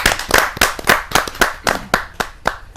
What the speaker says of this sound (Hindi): जोरदार ताली के साथ हम उनका स्वागत।